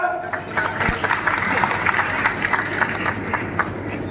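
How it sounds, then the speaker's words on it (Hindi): A crowd of women at a political gathering in Morena claps on cue, a loose scattered patter of hands running under ongoing amplified talk. "अगर सही है तो ताली बजाओ।"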